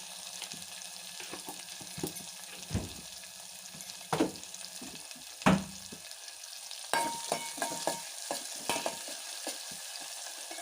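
Green chillies with turmeric frying in a pan, a quiet steady sizzle broken by intermittent stirring scrapes and knocks, with no talk.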